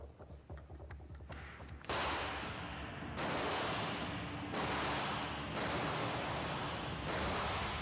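A 12-gauge shotgun fires about five loud booming shots spaced a second or so apart, each leaving a long rumbling echo.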